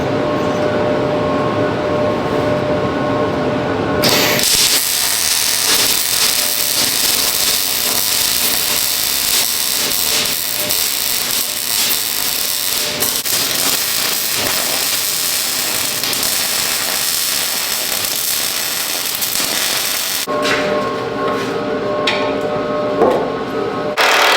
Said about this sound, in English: I'm gonna go ahead and start doing the grinding process now